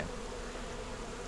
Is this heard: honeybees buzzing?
yes